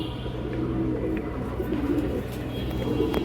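Old-breed pigeons, a kanthi-necked pair at a farm loft, coo steadily at close range, their low rolling calls continuing throughout over a faint background hum.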